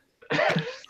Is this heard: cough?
yes